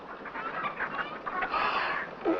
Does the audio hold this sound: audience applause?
no